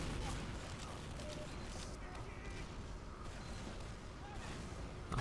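Rapid video game gunfire during a match, a dense continuous stream of shots and booms at steady loudness with little pause, mixed under talk and game noise.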